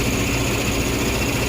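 A 2007 Ford Fusion idling with its A/C compressor running, a dense, steady engine drone with constant low rumble and mechanical whine, close and unbroken.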